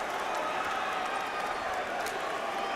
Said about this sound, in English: LeBron applauding the effort